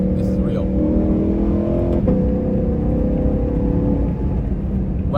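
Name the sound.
Ford Mustang GTD engine accelerating while driving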